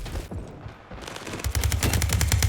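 Beryl M762 rifle fire in the video game WorldWar3, a fast automatic burst of sharp, loud shots in steady rhythm after a short lull of lighter sounds.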